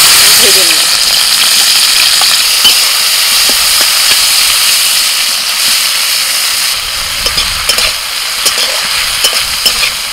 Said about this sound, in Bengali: চিংড়ি মাছে লবণ হলুদ মাখিয়ে নিয়েছি, ভেজে নেব।